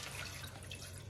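Milk pours steadily into a cooking vessel at the start of making firni, a soft continuous liquid trickle and splash heard alone at low level.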